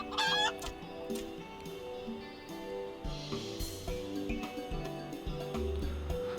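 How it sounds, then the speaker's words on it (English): Chickens in the video game Final Fantasy XIV cluck near the start, a quick run of bright calls over steady game music, then fade into the background as the music carries on. "Your other chickens are resting easy now, I gather."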